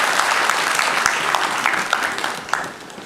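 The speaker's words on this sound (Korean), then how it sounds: "우리 영광의 박수를 우리 하나님께 올려드리겠습니다." A church congregation applauds during a Sunday morning worship service, a dense, steady wash of many hands clapping close by that carries on for the whole stretch without talk.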